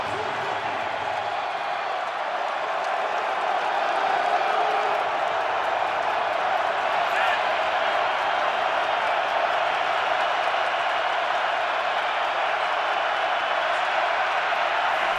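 Stadium crowd at an NFL game, 49ers at Titans, roaring continuously and loudly for the whole stretch, a dense sustained cheer with no break.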